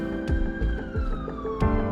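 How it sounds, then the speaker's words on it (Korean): An ambulance siren wails in the video game Solo Leveling: Arise, loud and continuous with a sweeping tone, broken by a few sharp thumps. "사이렌 소리다. 구급차가 왔나봐요."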